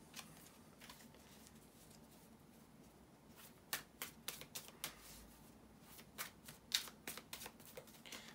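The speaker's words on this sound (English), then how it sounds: "bear with me just a couple of seconds, guys, to shuffle the tarot cards" Tarot cards being shuffled by hand, quiet at first, then bursts of crisp riffling and flicking close up, in irregular clusters with no talking.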